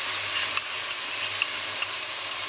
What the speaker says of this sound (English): When the ginger and the garlic have had a chance to begin to brown, I'm going to add the tomatoes. In go the tomatoes.